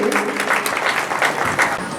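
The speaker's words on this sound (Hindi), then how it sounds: "आप जोरदार ताली बजाएं उनके लिए।" An audience at a village flag-hoisting and felicitation ceremony claps enthusiastically, a short burst of crowd applause with voices mixed in.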